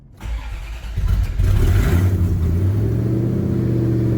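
A ZR1 Corvette engine that had been flooded with salt water cranks briefly, catches and settles into a loud, steady idle close by.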